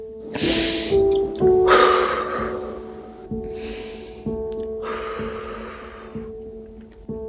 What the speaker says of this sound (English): Okay, deep breaths.